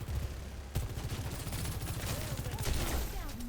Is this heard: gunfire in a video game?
yes